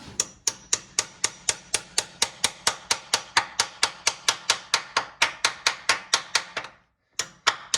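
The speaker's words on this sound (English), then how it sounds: "And then you use your hammer." Rapid, steady metallic taps from a hammer driving pins flush while installing a chain tensioner on a 1980 Mercedes 450SEL engine, about four per second, close and crisp, pausing briefly before two more strikes.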